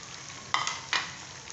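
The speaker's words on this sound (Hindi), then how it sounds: "देखिए आलू हमारे अच्छे तरीके से फ्राई हो चुके हैं" Potatoes with tomatoes just added, frying in a pan for a mixed potato, carrot and pea sabzi: a soft steady sizzle with two brief louder stirring bursts, close and alone.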